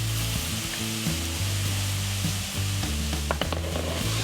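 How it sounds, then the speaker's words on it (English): Mushroom pieces, some already browning, sizzle steadily in a pan for a soup, with a constant close frying hiss and faint low hum underneath; no one speaks. "this has been cooking for 5 to 10 minutes now, and some of the bits of mushroom are starting to get quite browned"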